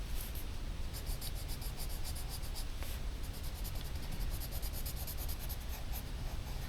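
Colours being drawn on paper during a calm art exercise, a soft continuous scratching and rubbing of the drawing tool, quiet and close, with faint rhythmic ticks above and no talking.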